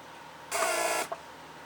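A Mercedes central locking vacuum pump runs in a brief whirring buzz of about half a second, ending in a small click, close and alone against a low background hum.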